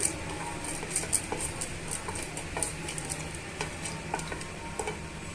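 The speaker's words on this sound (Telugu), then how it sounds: "నేను వన్ టేబుల్ స్పూన్ ఆవాలను వేస్తున్నాను వన్ టేబుల్ స్పూన్ పచ్చిశనగపప్పు వన్ టేబుల్ స్పూన్ మినపప్పుని యాడ్ చేస్తున్నానండి ఇవన్నీ బాగా వేయించేసుకోవాలి" Mustard seeds, chana dal and urad dal frying in hot oil, a close, continuous crackling sizzle dotted with small ticking pops and light stirring, with no voices.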